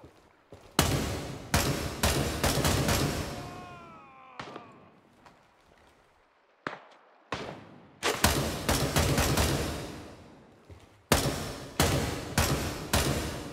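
Gunfire in the Grey Zone Warfare game comes in several loud, close bursts of rapid shots separated by short quiet gaps, with a few single shots and thuds between them.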